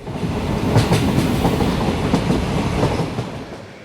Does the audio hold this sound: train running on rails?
yes